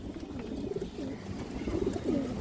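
A khaki female pigeon coos in a few low, throaty rolling phrases close up, repeated at short intervals against a faint background hum, with no talking.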